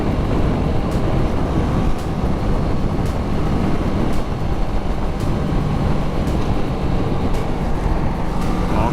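A motorcycle with half the engine displacement of a Suzuki B-King rumbles steadily while being ridden, a continuous loud drone with wind roar and faint periodic ticks, no talk.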